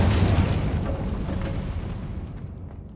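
Incendio fire spell cast in Hogwarts Legacy, a loud deep whooshing burst of flame that swells at once and slowly fades over a few seconds, with no talk.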